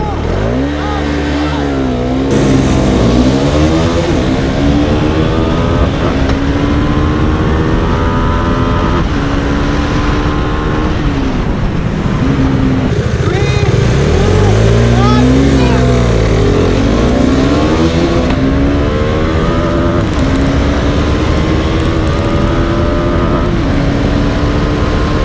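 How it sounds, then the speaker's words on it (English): Two motorcycles, a 2019 Bajaj Dominar 400 and a 2013 KTM Duke 390, launch in a drag race, their engines revving loud and close with rising and falling pitch through repeated gear changes over about 25 seconds. "let's just test these motorcycles out and see who comes out on top"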